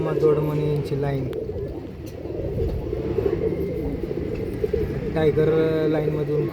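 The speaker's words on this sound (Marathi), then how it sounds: "टायगर लाईनमधून कबूतर आहेत सगळे।" Pigeons of a tiger line coo in a breeding loft, low repeated coos overlapping throughout, close by, with someone talking over them and faint bird chirps and a passing vehicle rumble beneath.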